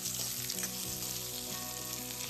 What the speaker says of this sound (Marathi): साधारण जरा लालसर होईपर्यंत या शेंगा परतून घ्यायचे